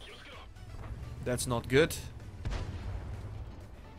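A tank's ammo rack explodes in World of Tanks: a sharp crash and burst of game explosion sound, moderately loud, with a player speaking briefly over it.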